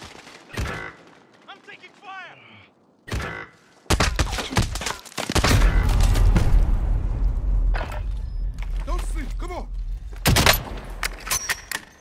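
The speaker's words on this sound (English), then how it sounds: "I'm taking fire!" Gunfire in Call of Duty Modern Warfare, sharp bursts of automatic fire and heavy booming shots, some sparse at first then dense and rumbling, with brief voice callouts between.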